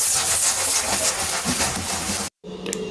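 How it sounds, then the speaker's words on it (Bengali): An aloo paratha sizzles in oil in a frying pan, a loud, steady hiss up close that cuts out abruptly near the end before a quieter tail of faint noise returns. "আমার আলু পরাটা ভাজা কমপ্লিট"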